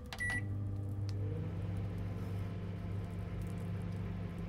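A microwave oven in the horror game METEL Horror Escape, opening with a few short beeps and then settling into a steady low mechanical hum with a constant drone.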